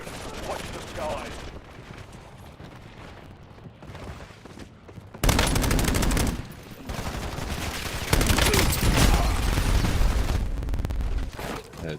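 Sustained gunfire from enemies shooting at the player in a first-person shooter game, loud bursts filling the second half after a quieter stretch, with voices talking over the action.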